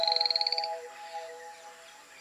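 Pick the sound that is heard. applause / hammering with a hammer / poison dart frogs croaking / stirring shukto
poison dart frogs croaking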